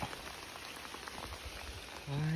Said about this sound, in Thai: โอ้ยฝนกระตกจ้ะพี่น้องจ้า